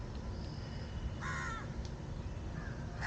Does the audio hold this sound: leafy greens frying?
no